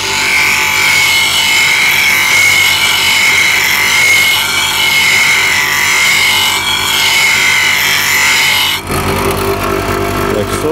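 A grinder sharpens a bowl gouge for woodturning, a loud, steady grinding whine that runs without break, then cuts off abruptly near the end.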